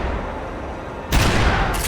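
Gunfire in the shooter game Max Payne 3 erupts in a dense, loud barrage of overlapping shots that cuts in abruptly over a steady background rumble.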